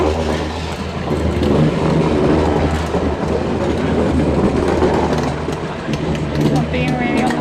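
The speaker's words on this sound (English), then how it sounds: "There's a tram coming." A tram rolls past on rails near South Norwood Country Park, a loud, close, continuous rumble with rhythmic wheel clatter and a brief high squeal near the end.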